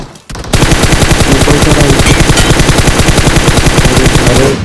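Sustained rapid automatic rifle fire, loud and dense, hammering continuously for several seconds after a brief pause, with no voices.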